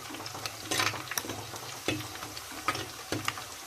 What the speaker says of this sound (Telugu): ఈ మట్టి పాత్రలో ఉల్లిగడ్డ అయితే లేటుగా వేగిపోతుంది